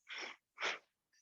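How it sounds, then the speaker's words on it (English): Two strong, breathy rushes of air from a person doing a breathing exercise, close and loud, separated by a brief pause, then a faint short hiss at the end. "Don't let yourself get confused by my breathing."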